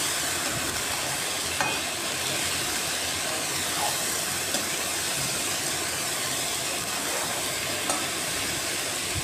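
Ash gourd and raw banana with turmeric and salt frying on high flame: an even, broadband sizzle and hiss held throughout at close range, with a few faint stirring taps.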